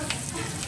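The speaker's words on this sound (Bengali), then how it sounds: "এখন আলু ভাজা হচ্ছে" Potatoes sizzle and fry in a pan, a steady close crackling hiss with small pops that holds evenly throughout the brief moment in a home kitchen.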